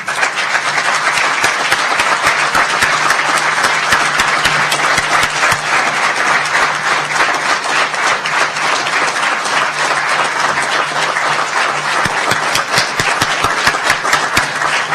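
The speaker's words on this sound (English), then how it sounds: "Would you please stand and let us give you a round of applause real quickly." Dense, sustained applause from an audience at a 2015 naturalization ceremony, many hands clapping steadily and loudly for the full stretch, with sharper individual claps standing out near the end.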